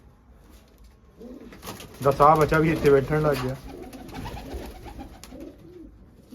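Pigeons cooing in soft repeated throaty calls, clearest in a burst near the middle, with people talking nearby and light rustling around them.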